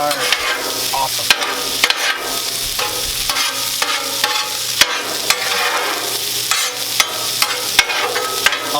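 Brussels sprouts frying on a Blackstone griddle give a loud, steady sizzle with crackling, broken up by repeated sharp scraping clacks of a spatula stirring and turning them.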